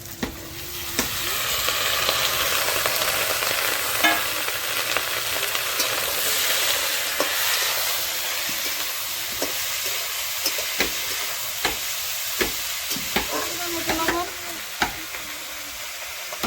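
Vegetables added to hot oil in a pan for a fish curry, a loud steady sizzle and frying hiss with occasional clinks and scrapes of stirring, close by throughout.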